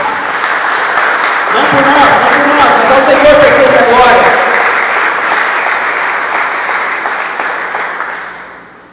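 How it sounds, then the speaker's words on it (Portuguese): A church congregation applauds at a Portuguese-language worship service, a sustained, dense wash of clapping that swells and then fades, with a preacher's voice speaking over it. "Vamos dar uma salva de palmas, Senhor, que Ele merece."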